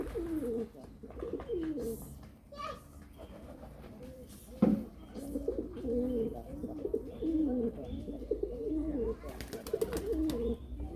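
Pigeons cooing on a rooftop as they are chased off, with soft repeated coos and a few sharper wing or call bursts, close and moderately loud over faint background.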